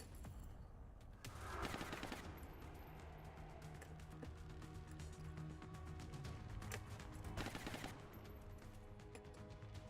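Gunfire in the video game XCOM Long War, with rapid bursts of automatic shots over a steady game soundscape and two stronger volleys at moderate loudness.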